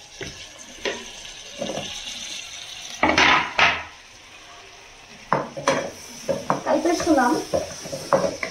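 Tomatoes being stirred into onions frying in a pan for shahi paneer, with scraping clatters of a spoon against the pan over a steady sizzle, a few louder knocks, and brief voices nearby.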